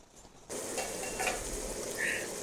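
Mutton keema being stirred in a pan, a sudden onset of close hissing sizzle with soft scraping and a faint metallic squeak of utensil against pan, no speech.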